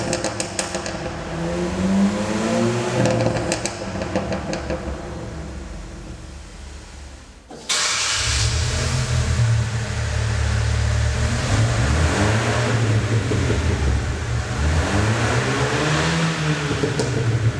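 Two Abarth cars, a Pulse Abarth and a Fastback Abarth, have their exhausts compared: a revving exhaust with rising and falling pitch sweeps, then a sudden louder, deeper second exhaust revving in repeated swells.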